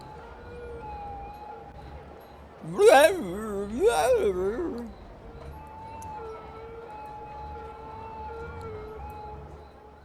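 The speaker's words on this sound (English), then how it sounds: "those ambulances sound sick" Wailing ambulance sirens in the city-building game Cities: Skylines rise and fall in two loud swells over a steady background hum, with a voice talking through much of it.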